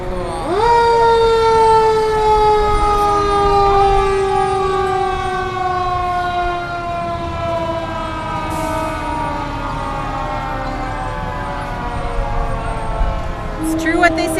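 Fire engine siren wailing up and down at a small-town summer parade, loud and close at first and then slowly easing off, with crowd noise and people talking underneath.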